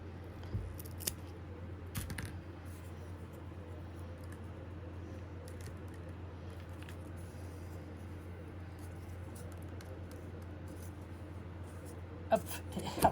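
Scissors snipping craft material for an egg basket, a few sharp clipped cuts near the start and a couple more at the end, quiet and close against a low steady hum.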